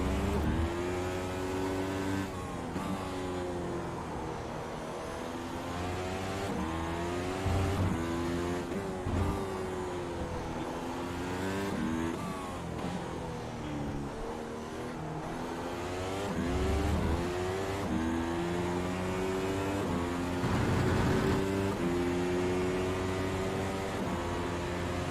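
F1 race car in the iRacing sim, heard from the cockpit: a loud, continuous engine whine that climbs and drops in pitch through repeated downshifts and gear changes, steady and alone with no talk.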